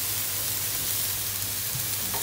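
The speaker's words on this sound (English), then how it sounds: "Just going to bring that up to the boil" Red wine with beef comes to the boil in a pan, giving off a steady, close, gentle bubbling sizzle that stays even throughout, with no voices.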